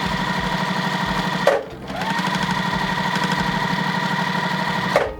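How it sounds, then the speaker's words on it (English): A sewing machine stitching quilt pieces runs in a fast, even mechanical whir close by. It stops briefly near the start, restarts and runs steadily, with a short pause near the end. "And now I'm going to sew them right on that line again"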